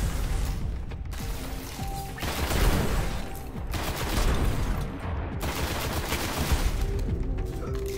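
Shotgun fire in the video game Destiny, repeated loud booming blasts and crashing impacts in quick succession amid dense combat noise, with no talking over it.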